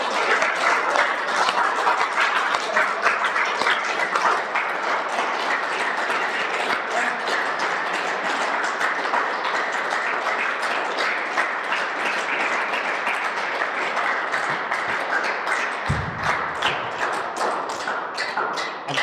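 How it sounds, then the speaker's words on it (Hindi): A group claps hands continuously during a yoga session indoors, a dense, steady patter of applause sustained for the whole stretch with no pause. "ताली बजाने से एक प्रेशर होता ही है।"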